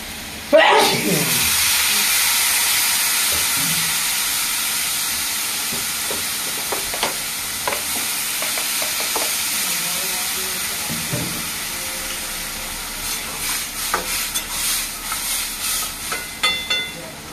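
Water hits a hot pan of prawn curry with a sudden loud hiss that slowly settles into a softer bubbling sizzle, with a few scraping stirs toward the end.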